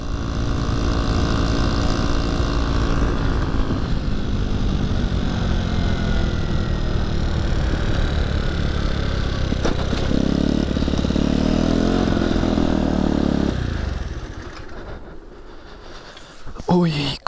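A scooter engine drones steadily while riding along a road, loud and close with constant wind rush, then eases off and quiets near the end as it slows.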